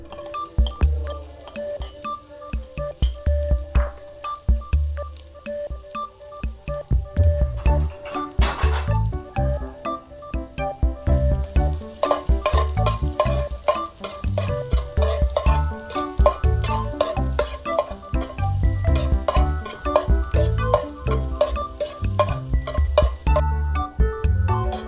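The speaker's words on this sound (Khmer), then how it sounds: "បន្ទាប់មកយើងចាក់ខ្លាញ់ដើម្បីបំពងខ្ទឹម" Garlic fries in hot oil in a pot for a Cambodian mixed-vegetable dish, a loud close sizzle running throughout with frequent scraping and clinking of a utensil stirring against the pot, and no voices.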